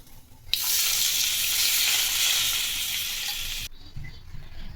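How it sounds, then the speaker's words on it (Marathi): A hot tempering of cumin, mustard seeds, curry leaves and sambar masala poured over leftover rice, bursting into a loud, sudden sizzle that holds steady for about three seconds, then cuts off sharply to near quiet. "आता ही फोडणी आपण यावर टाकून घेऊ"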